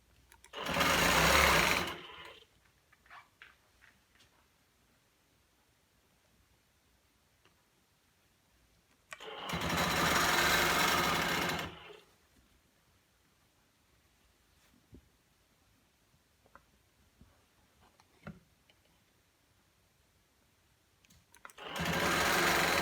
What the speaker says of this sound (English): And then you're just going to follow your 1/4 inch seam allowance again,